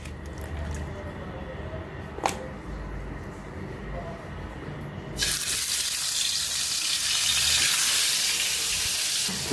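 White pomfret fish frying in a pan on a stove, a quiet background hiss that swells into a loud, steady broadband sizzle about halfway through as the fish hits the oil.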